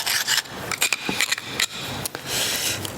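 A semi-sharp beater chisel scrapes along an exterior door sill, rasping and rubbing in quick, repeated strokes that are close and fairly loud, with no talk over them.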